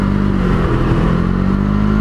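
A Can-Am Ryker three-wheeler's engine pulls under throttle, a loud, close, continuous drone with a steady low hum and no voices.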